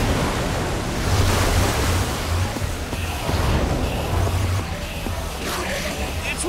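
Water gushing from a machine in Minecraft Story Mode: a steady, loud rushing wash of water continuing throughout, with faint voices underneath.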